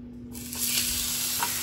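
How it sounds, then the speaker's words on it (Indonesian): Seasoned meat sizzles in hot oil in a Teflon pan, a steady close frying hiss that swells after a brief quieter start, with a soft stir or shift partway through. "Dibalik nih guys, ini udah dibumbuin, taruh di teflon"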